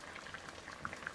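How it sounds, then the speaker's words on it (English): Adobo chicken sauce bubbles in a pot, a quiet close simmer of small popping bursts over a soft liquid hiss. "see how it's really bubbling up"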